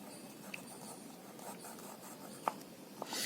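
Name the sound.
writing ordinal numbers in cursive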